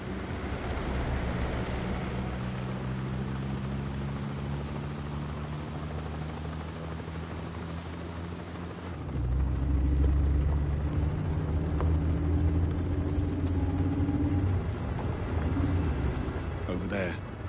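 Helicopter in the video game 007 First Light drawing closer, a steady low rotor drone that swells louder partway through, with game music and ambience underneath.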